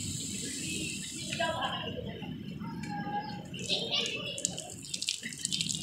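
Shower water runs steadily in a condominium bathroom, a continuous hiss and splatter beneath people chatting nearby.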